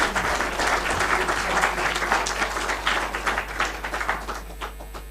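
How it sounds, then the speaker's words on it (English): An audience at a regional meeting of African national commissions for UNESCO applauds steadily, a dense round of clapping that fades slightly toward the end, with no talk over it. "Let us give them a round of applause."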